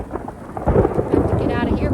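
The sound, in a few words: thunder during a storm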